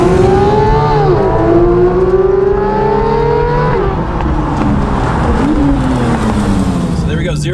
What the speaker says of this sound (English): we're going to do a 0 to 60 on the Porsche GT3